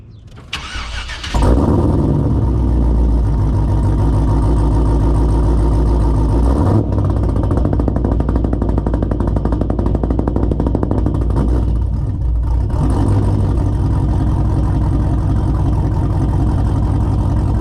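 A supercharged Cadillac CTS-V engine cranks and catches, then holds a loud, steady idle, rising slightly with revs on a Lingenfelter launch controller, close by and with no talk.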